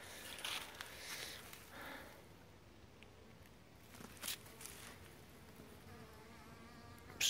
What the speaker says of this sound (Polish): Pod światło widać, ile pszczół lata.